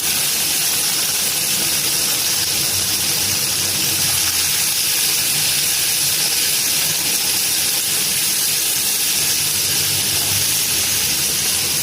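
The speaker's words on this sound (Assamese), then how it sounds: "মাছখিনি দি দিলোঁ। 1 মিনিটৰ কাৰণে ভাজিছোঁ।" Loud, continuous hissing sizzle of small fish frying in a little oil, a dense, even roar that holds steady throughout without pauses.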